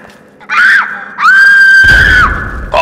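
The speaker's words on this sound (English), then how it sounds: "Boss, that sounds like a kid screaming, and it's coming from those ruins." A kid screams from ruins in the Fallout 3 video game, loud high-pitched sustained wails in two long bursts with a brief rumble between them.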